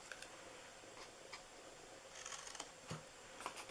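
Scissors snip through paper card to cut small flaps on a craft treat box, with faint, sparse clicks and crisp cuts spread over a quiet background.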